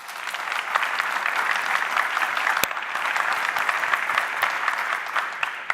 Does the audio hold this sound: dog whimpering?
no